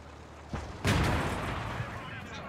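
Tank cannon fire in the Gates of Hell: Ostfront video game against an IS-2 tank, with a sharp shot followed by a heavy booming blast that rumbles and fades over a couple of seconds.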